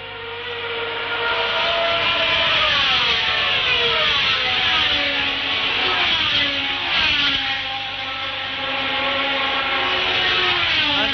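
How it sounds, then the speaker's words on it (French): 1971 Formula One cars at the Spanish Grand Prix, a Lotus and two Marches, screaming past one after another with rising and falling engine pitch, loud and close, no speech. "derrière vient la Lotus, je pense, de Fittipaldi, et les 2 marches de Peterson et Pescarolo"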